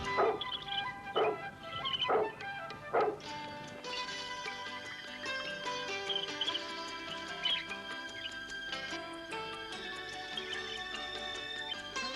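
Dogs bark in a rapid series of sharp yaps at a large mansion, then fade under sustained music for the rest of the stretch.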